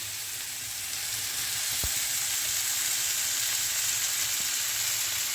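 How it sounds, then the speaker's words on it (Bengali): Flattened rice poha added to a hot pan of cooked peas in oil, a close steady sizzle that swells after one soft thud, then continues evenly with a faint stir. "এবারে আমরা পোহাটা ধীরে ধীরে ছেড়ে দেব।"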